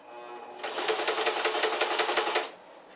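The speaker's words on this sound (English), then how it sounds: "The sewing machine's working great." A sewing machine runs in a quick burst of rapid, even stitching, a rhythmic mechanical chatter lasting about two seconds, close and clear.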